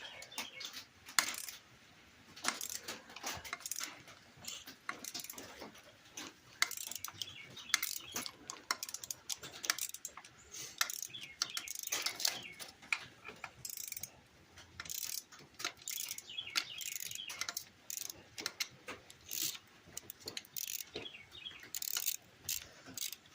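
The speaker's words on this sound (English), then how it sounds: "I'm trying 10 because it's already on my ratchet" A ratchet wrench with a 10 mm socket turns a bolt on a four-wheeler being prepared for a diesel swap, quiet, irregular clicking and metallic ticks close by, with no talking.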